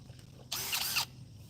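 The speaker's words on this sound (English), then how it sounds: "this one, I need to drill a hole" A cordless drill boring a hole while working on a fence, one short burst of whirring about half a second long that starts and stops sharply, set against a quiet background with a generator running.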